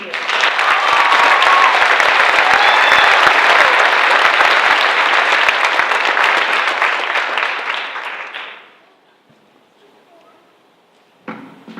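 An audience at a high school senior recognition night bursts into loud, sustained applause welcoming a guest speaker, many hands clapping together before the noise fades out to near silence.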